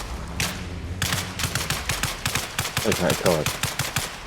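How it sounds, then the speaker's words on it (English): Rapid gunfire cracks in quick succession at a vehicle's rear tire in the military game Arma Reforger, a dense series of close shots while a voice speaks briefly over them. "Shot the back of his tire there."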